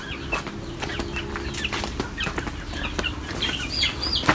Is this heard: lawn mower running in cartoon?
no